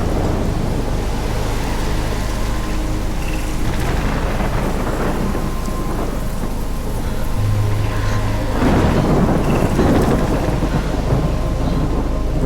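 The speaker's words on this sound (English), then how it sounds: "I've never seen a storm like this in Oregon." In the Life Is Strange video game, a thunderstorm over Oregon brings heavy, steady rain, with rolling thunder rumbling through it and swelling louder in the second half.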